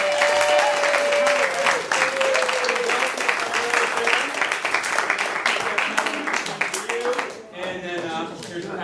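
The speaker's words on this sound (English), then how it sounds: "Everybody, a round of applause for our judges" An improv comedy show audience gives the judges a loud, sustained round of applause with dense clapping and some cheering that thins out toward the end.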